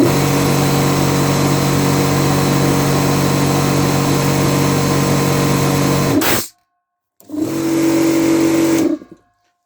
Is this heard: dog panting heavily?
no